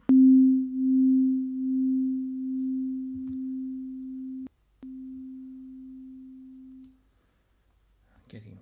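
Electric piano patch on the Dexed DX7 FM synthesizer plug-in, a single low sustained note holding for about four seconds, breaking briefly, then sounding again and fading out, with a brief low murmur near the end.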